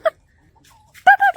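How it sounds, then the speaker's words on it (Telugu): A chicken on a farm-house clucks in short bursts, with a brief call at the start and then two loud, close clucks near the end after a near-silent pause. "ఈ కోడి సౌండ్ బాగుంది అగ్గో"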